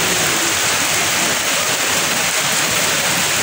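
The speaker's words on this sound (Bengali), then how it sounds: "কি জোরে বৃষ্টি হচ্ছে" Torrential rain pours down in a constant, loud hissing wash, steady and close, with no pauses from start to finish.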